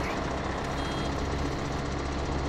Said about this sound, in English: The tractor's right here.